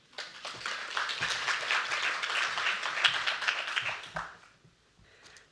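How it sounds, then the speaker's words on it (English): Audience applause at a young professionals debate on water security, a dense patter of many hands clapping for about four seconds at moderate loudness, then fading to scattered claps. "And this is Ellie, round of applause."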